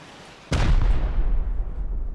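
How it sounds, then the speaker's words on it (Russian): A rocket explodes in the video game Rust with one sudden, heavy boom, followed by a rumbling decay that trails off over the next second or so. "Непонятно, то ли об меня она сейчас взорвалась, то ли это я спровоцировал ее на взрыв."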